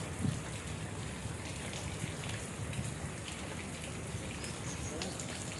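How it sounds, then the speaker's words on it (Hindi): Light drizzle patters softly and steadily, a quiet, even hiss of small drops without any breaks. "बूंदाबांदी हो रही है।"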